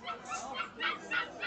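A teddy poodle gives a few short, soft yips and whimpering barks in quick succession, faint and close, in a dog shop setting.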